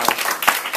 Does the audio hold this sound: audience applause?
yes